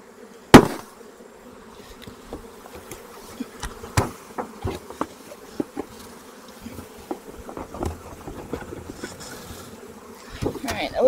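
Honeybees buzzing around an opened hive during an inspection, a steady low hum broken by sharp clicks and knocks of handling, with a loud thump near the start.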